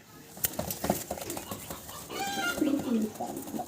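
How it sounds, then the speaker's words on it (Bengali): A pair of blue barless racer pigeons coos close by, with rolling low calls amid loft clatter and other bird sounds. "চমৎকার আরও এক জোড়া কবুতর রেসার দেখাচ্ছি আপনাদেরকে"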